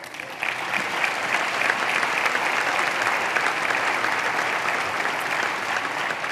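A large audience applauds at a public address in Madrid, with dense, continuous clapping that holds steady and loud for several seconds, filling the room with no voice over it.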